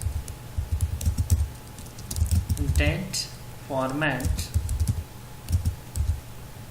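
Java code being typed on a computer keyboard at close range, a quick run of light key clicks that pauses briefly while someone speaks over it.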